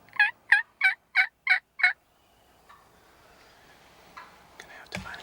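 Six loud, evenly spaced wild turkey gobbles ring out in quick succession from a turkey hunt in Michigan woods, followed by quiet rustling and a few faint noises.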